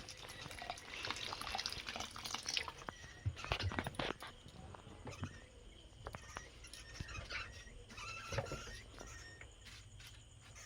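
A small amount of water is poured onto ashes in a village kitchen while making pora pithe, a baked palm cake. It makes a faint, soft trickle and splash with light clatter nearby.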